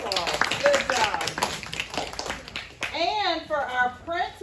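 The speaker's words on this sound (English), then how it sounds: "Okay, let's give them a round of applause." At a school academic awards assembly, an audience gives a brief burst of clapping, then people, including children, talk over the fading applause.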